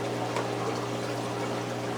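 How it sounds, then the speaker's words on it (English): Water pours steadily back into a saltwater aquarium display tank, a constant close trickling flow with a low pump hum underneath, no voices. "the water is starting to come down, filling back into the display tank"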